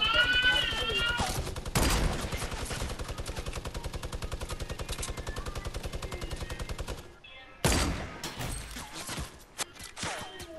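Sustained rapid-fire gunfire in a hectic Fortnite squad match runs for about seven seconds as a steady mechanical stream, then breaks off and returns in a few sharper bursts, with players talking underneath.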